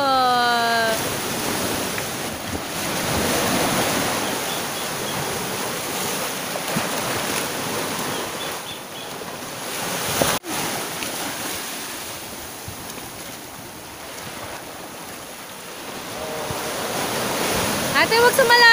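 Sea waves roll and break on a beach, a loud continuous wash of surf with wind buffeting the microphone, steady throughout with one sharp thump near the middle.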